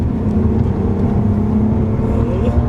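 A BMW E46 330i sedan engine revving hard while shifting into second gear, a loud continuous close-up drone with a rising tone near the end.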